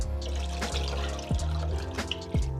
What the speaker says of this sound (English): we wanna go ahead and put all 10 cups of our chicken stock